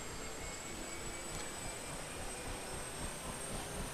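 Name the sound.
helicopter turbine engine starting up and rotors spinning, flight simulator video game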